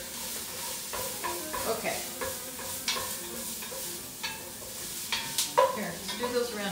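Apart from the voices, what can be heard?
onions frying in a pan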